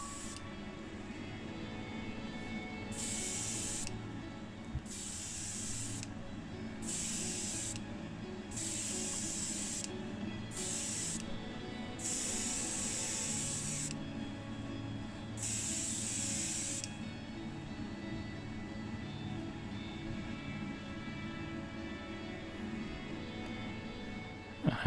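Paint sprays on a 1957 Austin Healey 100 car part in a series of short hissing bursts of varying length, separated by pauses over a low background hum, with no talking.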